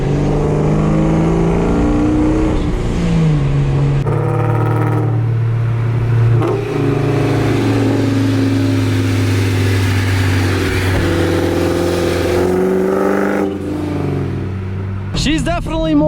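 A tuned car fitted with a Blue2Valve accelerates through repeated hard pulls, the engine rising and dropping between gear changes, heard loudly from inside the cabin with road rumble underneath.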